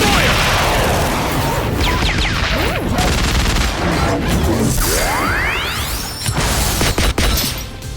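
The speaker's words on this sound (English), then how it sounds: "Machine gun destroyer!" Machine Gun Destroyer attack in a Digimon video game: a loud, dense barrage of rapid gunfire bursts, swooshing sweeps and crashing impacts filling eight seconds, with sharp hits near the end.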